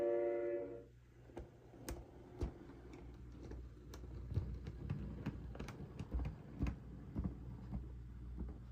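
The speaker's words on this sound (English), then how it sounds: "now we're gonna back up and couple onto the train" A model railroad locomotive on the Payne & Suphren RR backs up to couple onto cars, giving a quiet run of irregular clicks and rail ticks over a low rumble, with a short tonal hum near the start.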